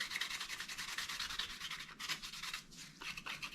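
Guitar frets being rubbed with worn 1200 grit abrasive paper during a Stratocaster build, a close, steady back-and-forth scratchy rubbing in quick rhythmic strokes with a few brief pauses, no voices.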